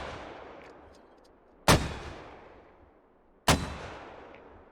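Two heavy mortar launches in the video game Squad, each a sharp booming thump with a long decaying tail, spaced almost two seconds apart over a steady low background rumble, with no speech.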